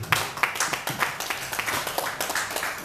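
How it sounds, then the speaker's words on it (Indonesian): Rhythmic, evenly paced clapping from an audience at an Indonesian gathering honoring Pak Nof, steady claps of moderate loudness repeating about three times a second. "Kita berikan aplaus kepada Pak Nof"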